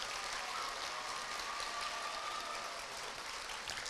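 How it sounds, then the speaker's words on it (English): An elementary school awards ceremony audience gives a continuous round of applause, heard as a soft, even wash of clapping that stays faint and steady throughout. "So how about a big round of applause for Mr."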